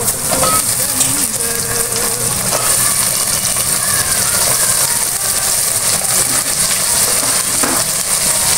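Eggplant pieces frying with browned onions in a pan while being stirred, a loud, steady sizzle running throughout with scraping and clinking of a utensil.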